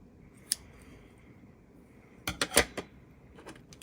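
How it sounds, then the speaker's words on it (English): Scissors snip sharply through paper: one lone cut, then after a pause a quick run of four or five crisp snips, with a couple of faint ones trailing after. "And then I also just have some basic scissors from Daiso."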